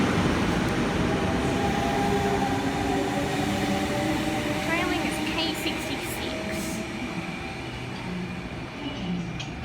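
A Sydney train departs Granville station, a loud close rolling rumble with faint wheel squeals and clicks, under a voice speaking.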